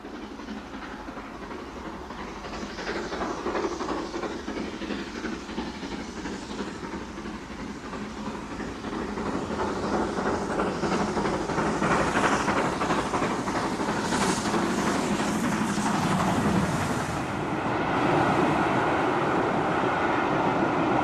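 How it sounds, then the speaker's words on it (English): GWR Castle class steam locomotive 5080 Defiant running from Tyseley to Didcot on a 1988 rail tour, a loud continuous rush of train noise with rhythmic wheel clatter that builds and stays heavy throughout. "Here she is travelling from Tyseley to Didcot on a 1988 rail tour."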